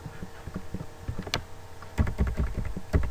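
Keys clatter on a computer keyboard in quick irregular bursts, with a sharper flurry of strokes near the end, close and fairly loud with no talking.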